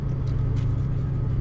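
A supercharged Foxbody Saleen Mustang on Michelin Pilot Sport Cup 2 tires cruising along, a steady low engine drone heard from the cabin, continuous and fairly loud without talking.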